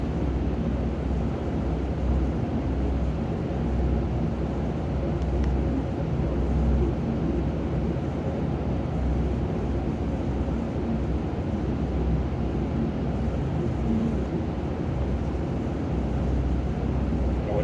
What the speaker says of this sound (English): Sorry about the booth noise though.